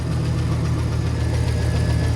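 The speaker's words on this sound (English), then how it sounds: "Definitely an exhaust leak." A $3000 Chevrolet Silverado truck engine runs steadily with an exhaust leak, giving a loud, continuous low rumble with a faint ticking pulse throughout and no talking.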